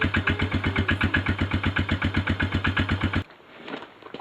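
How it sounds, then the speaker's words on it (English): Stock exhaust on a motorcycle before a DG slip-on install, engine running at a steady idle with a loud, rhythmic, even exhaust pulse, close up, cutting off abruptly near the end. "I figured we'd take a quick sound clip of the stock exhaust so you can hear the difference"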